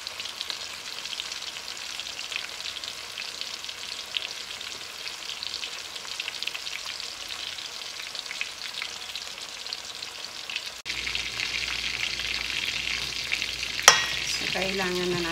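A pork chop fries in a pan with a steady, close hiss of sizzling fat, growing louder and fuller near the end with a few sharp pops and clatters.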